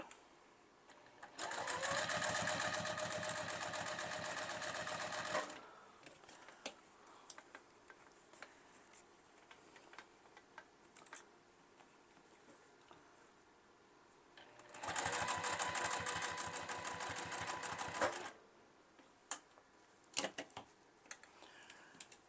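A sewing machine stitches around the edge of a fabric bowl cozy in two fast whirring runs separated by a quieter pause of small clicks and handling noises, close and clear with no talking.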